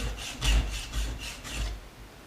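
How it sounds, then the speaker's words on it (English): A flat file worked along the edge of a metal pendant, about five even rasping strokes in a steady rhythm, close and alone. "we're back to flat filing, which is my number one favorite thing to do"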